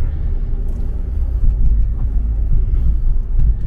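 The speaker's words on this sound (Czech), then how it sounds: "A je tam trošku slyšet podvozek." Suzuki SX4 on the road, with a continuous low rumble of driving and suspension noise and occasional thumps over the surface, steady and fairly loud inside the cabin.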